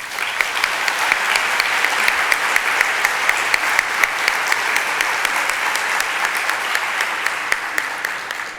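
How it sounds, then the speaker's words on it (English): Sustained audience applause filling a large general-session hall at a combined AACPDM and IAACD meeting, a dense, steady patter of many hands clapping for over eight seconds and tapering slightly at the end, with no talking. "they deserve a round of applause"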